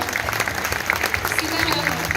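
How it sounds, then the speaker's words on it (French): A crowd claps steadily at an award presentation for a hair salon, a dense patter of applause with a voice speaking over it. "également accompagnée par vos applaudissements pour la féliciter pour ce joli parcours"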